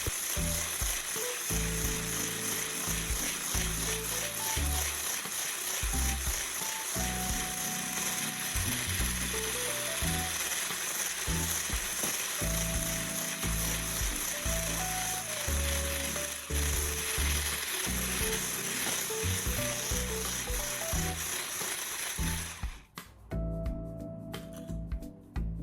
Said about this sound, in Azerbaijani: 1 stəkan şəkər tozunu hissə-hissə əlavə edərək